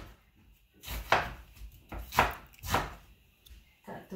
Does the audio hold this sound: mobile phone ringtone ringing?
no